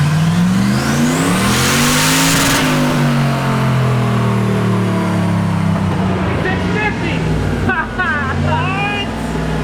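A big-turbo LS6-swapped Volvo sleeper roars loudly on a dyno, its engine rising in pitch through a hard pull, then easing off. Voices talk over the fading engine near the end.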